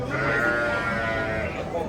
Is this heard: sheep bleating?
yes